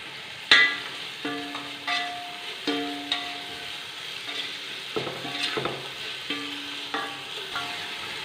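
Onion, chili and ginger-garlic stirred in a sizzling pan for chicken majboos: a spoon scrapes and clinks against the pan in repeated strokes over a continuous frying hiss, with a faint tonal background.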